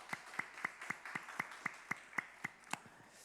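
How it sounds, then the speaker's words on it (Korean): Rhythmic unison clapping from a church congregation during a Wednesday night worship service, about a dozen sharp, evenly spaced claps, faint and slightly distant, with no other sound. "우리 하나님 앞에 감사 영광의 박수 올려드립시다"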